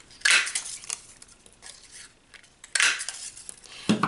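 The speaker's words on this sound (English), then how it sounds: "So I'm going to go ahead and punch those out first." A handheld paper punch cutting small circles from cardstock, giving two sharp, bright crunching clacks about two and a half seconds apart, with quieter handling noise between and a softer thump at the end.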